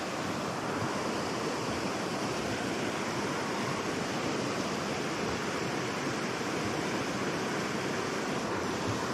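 A steady, loud rush of flowing river water fills the whole stretch at a fishing spot near a crossing, broadband and continuous with no pauses and no voices.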